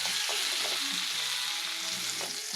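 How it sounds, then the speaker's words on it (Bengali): Tomatoes and beans frying in a hot pan, a steady sizzle with light stirring scrapes, close and continuous with no voices. "টমেটো যখন একটু নরম নরম হয়ে যাবে তখন দিয়ে"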